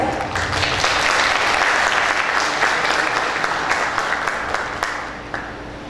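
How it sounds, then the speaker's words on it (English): An audience at a bilingual ELT teaching seminar claps warmly for a speaker, a full and even round of applause that slowly thins and fades toward the end, leaving a few scattered claps. "let's give some claps for Katia"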